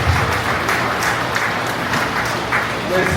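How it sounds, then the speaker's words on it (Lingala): Congregation at a Kinshasa funeral wake ceremony applauding in praise, a dense, continuous burst of clapping from a crowd throughout, with voices mixed in. "Nous allons acclamer pour la gloire de notre Seigneur."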